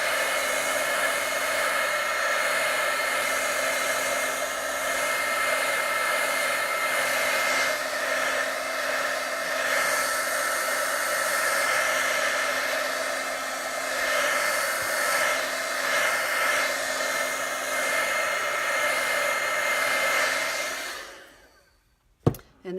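A hair dryer drying chalk paint on a white pitcher blows with a loud, steady whine for about twenty seconds, then cuts off abruptly, followed by a brief click.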